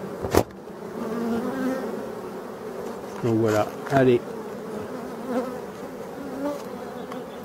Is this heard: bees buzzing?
yes